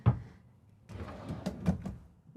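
Soft close solid wood drawers in a Renegade Valencia 38RB Super C motorhome are pulled out, giving a faint series of quiet sliding rumbles and soft knocks.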